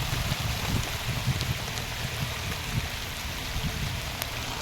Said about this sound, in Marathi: एवढा पाऊस आलेला आहे